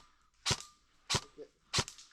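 An airsoft gun fires BBs during an outdoor airsoft game in the Ardennes, three sharp, close snaps spaced about half a second apart, with a faint murmur between the shots.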